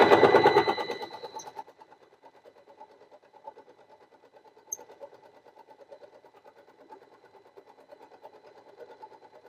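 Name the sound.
Usha Janome Allure DLX sewing machine overlock-stitching fabric edge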